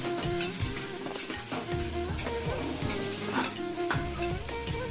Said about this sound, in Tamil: இப்போ போட்ட மசாலாலாம் பார்த்தீங்கன்னா வெங்காயத்தோடு சேர்ந்து நல்லா வதங்கிட்டு இருக்கு